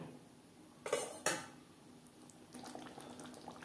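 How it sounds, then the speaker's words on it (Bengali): Potatoes being stirred with spices and onion in a pan for a Bengali fish and potato curry; two sharp metal scrapes of the spoon against the pan, then a soft bubbling, clinking cooking sound, fairly quiet and close. "মশলা ও পেঁয়াজের সাথে আলু বেশ ভালো করে মিক্সড করে দেব।"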